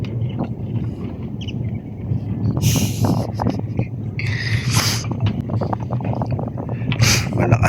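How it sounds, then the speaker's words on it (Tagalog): Strong wind buffeting a small boat out on Manila Bay, heavy gusty rumble over the microphone with splashes and rattling, and some faint voices in the mix. "Malakas ang hangin."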